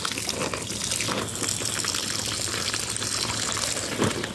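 Chili and sunflower plants are watered in a garden. Water gushes and splashes in a continuous wash with no voices.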